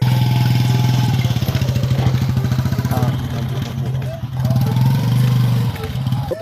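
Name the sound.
motorcycle engine idling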